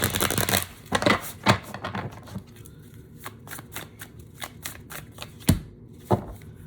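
Tarot cards being shuffled by hand, with crisp riffling bursts at the start followed by irregular close-up flicks and taps of the deck, no speech.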